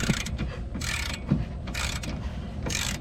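Ratchet wrench with a size 18 socket tightening a front sway bar link nut on a 2004–2010 Toyota Sienna, giving bursts of rapid clicking at a steady, close, moderately loud level over low mechanical rumble.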